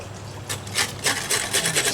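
A hand tool scrapes across a still-soft concrete patch, making a few close raspy strokes in quick irregular succession.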